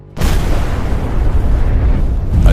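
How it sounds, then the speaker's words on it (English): A Russian armored carrier blows up after a drone strike in a field, a sudden loud roaring blast that sustains as a dense rumble for a couple of seconds. "A devastating explosion."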